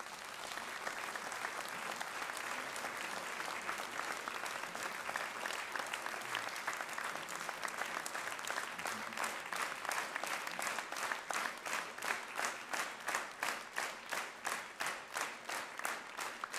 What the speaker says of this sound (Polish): Te oklaski są dla prawdy, nie dla mnie, więc dlatego się nie kłaniam.